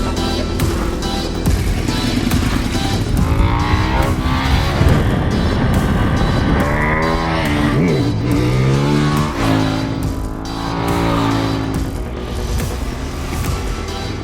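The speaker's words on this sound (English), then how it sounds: "Great sounding motorcycle, it's a beautiful motorcycle" A 2013 Ducati 848 EVO Corse SE screams around a race track, its engine revving hard and climbing through gears with falling pitch sweeps on downshifts, loud and continuous with no talk.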